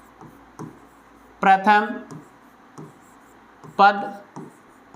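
Chalk or marker taps and scratches against a board during a math lesson on arithmetic progressions, sparse short strokes between two bursts of a teacher speaking.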